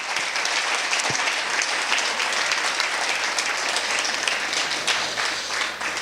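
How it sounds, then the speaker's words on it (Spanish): A church congregation applauds loudly during a Spanish-language worship service, a thick, continuous wash of clapping that holds at full strength for several seconds. "Dele fuerte ese aplauso al Señor"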